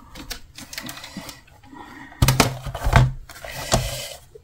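A paper trimmer slices paper while a beginner's scrapbook mini album is made, giving sharp mechanical clacks and scraping strokes that cluster near the end, close and fairly loud, with no talk.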